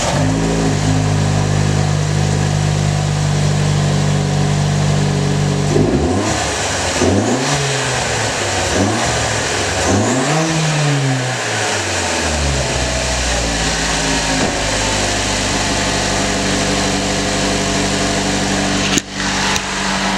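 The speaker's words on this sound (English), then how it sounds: "So let's start it up and listen to it." Chevy Cruze engine fitted with an Injen cold air intake, starting up and then revving in several rising and falling bursts before settling back to a steady idle, loud and close with no talk.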